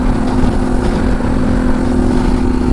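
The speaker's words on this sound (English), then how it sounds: "And of course my exhaust now, made by Stealth Pipes." A motorcycle fitted with a Stealth Pipes exhaust runs steadily, loud and close, with a constant droning engine tone that never stops.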